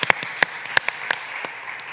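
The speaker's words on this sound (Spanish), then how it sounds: "Así que un aplauso." A few scattered, sparse claps ring out for a guest at a live podcast recording, with sharp, uneven hand smacks standing out against a quiet room rather than full applause.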